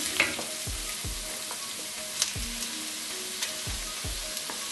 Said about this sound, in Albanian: Tani qepëve që janë zbutër, i shtojmë mishin.